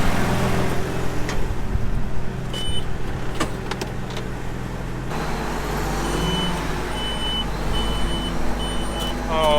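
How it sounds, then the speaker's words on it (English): Electronic warning beeps from a machine that had to be restarted before raising, short tones repeating over a loud, steady engine rumble in the second half. "Oh, please stop beeping"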